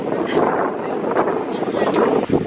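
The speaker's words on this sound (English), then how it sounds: "It's a little windy." Wind blowing by the ocean at an all-inclusive resort dinner in Punta Cana, a steady broadband rush buffeting the microphone with muffled background voices.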